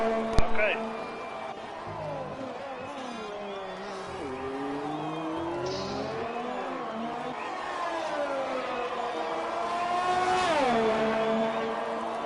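Formula 1 race car in a racing video game at Vietnam circuit, steady high engine whine with rising and falling pitch through gear changes, continuous, under commentary talk throughout.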